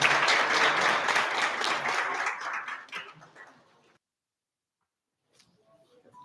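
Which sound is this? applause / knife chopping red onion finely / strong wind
applause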